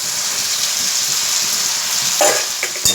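Capsicum fries in paneer masala with a bright, continuous sizzle, broken near the end by a couple of short stirring clatters.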